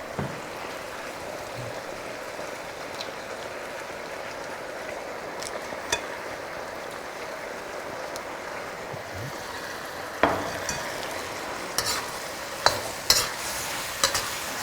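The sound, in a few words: stirring and frying leaves in a pan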